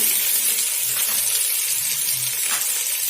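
Okra and vegetable pieces sizzle and fry in a pan while being stirred for drumstick sambar, a steady close hiss with soft scraping stirs and no voices.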